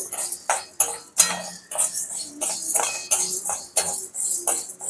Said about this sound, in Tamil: நான் இன்னைக்கு வந்து வறுத்து காமிக்க போறேன் பாருங்க